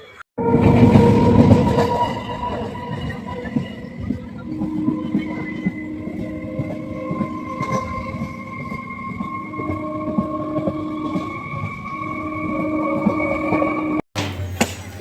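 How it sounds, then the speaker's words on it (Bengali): A Canning local train departs Sealdah station, rumbling steadily with sustained horn-like tones and rail clatter, loud and close, ending abruptly. "ক্যানিং লোকাল শিয়ালদা স্টেশন থেকে ছেড়ে চলে যাবে"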